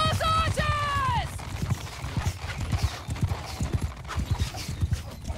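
Cavalry horses galloping in the Mount and Blade Bannerlord video game, with steady rapid hoofbeats throughout and a loud neigh at the start.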